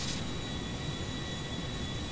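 In GTA V, a Laser military jet takes off with a steady, loud roaring engine wash that stays constant throughout, with no speech.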